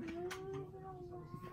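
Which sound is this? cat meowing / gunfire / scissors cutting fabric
cat meowing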